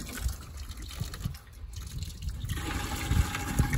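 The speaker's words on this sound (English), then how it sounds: "you can see it's kind of pumping this water out kind of slow right now" A farm windmill water pump slowly fills a stock tank for cattle, giving a steady close splash and trickle of water that grows a little fuller and busier toward the end.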